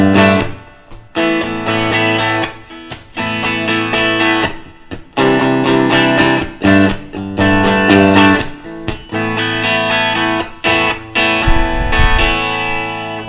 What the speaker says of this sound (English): but without the chorus it would sound like this.